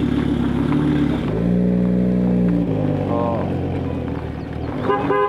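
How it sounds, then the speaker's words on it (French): Two Audi RS3 cars pull away nearby, a loud sustained horn tone blaring over deep engine rumble, then the revs climbing as they accelerate off. "Ça y est, les deux RS3 viennent de partir les amis"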